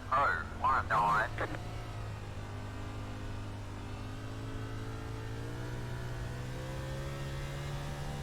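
A race car engine in iRacing on the Bristol dirt track hums steadily, its pitch shifting as it downshifts, heard alone after a short burst of talk at the start.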